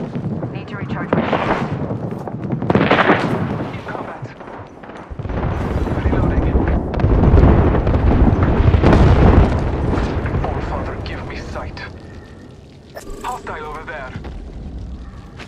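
Airstrike explosions in the Apex Legends video game, a series of loud booming blasts with rumbling roar and aircraft-like noise, rising and falling over several seconds, ending with smaller electronic effects.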